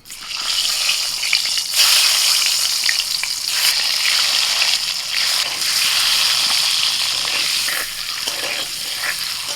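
Loud, continuous sizzling and crackling of eggs frying in hot oil, steady throughout with occasional bursts of spattering.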